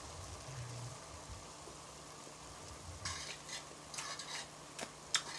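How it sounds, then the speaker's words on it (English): Pasta being stirred in a pot, with soft scraping and clinks of a utensil against the pot over a faint background hiss; quiet and close, no talking. "we're stirring up the pasta a little bit"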